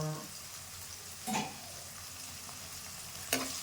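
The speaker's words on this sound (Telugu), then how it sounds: "ఇలా దోరగా వేయించుకుంటే బాగా ఆనియన్స్ బాగా కలర్ మారాలన్నమాట" Onions fry in a pan toward golden brown for a chicken curry, with a quiet continuous sizzle and two short scraping stirs, and no one speaking.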